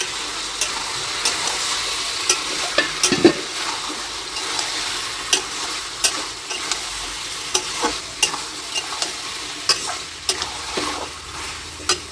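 Chicken kosha frying and being stirred in a covered pan, a steady close sizzle broken by repeated scraping strokes of the spoon against the pan, with no talking.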